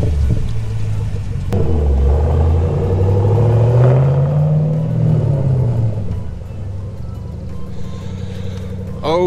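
A 2010–2013 Camaro's V8 engine rumbles and revs up and down close by, its deep tone rising and falling before settling into a lower idle, with a faint voice near the end.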